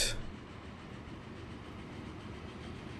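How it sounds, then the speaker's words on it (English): A train rolls through a station in the video game Transport Fever, a steady low rumble that holds at an even level from start to finish with no one speaking. "Because the train is just going through."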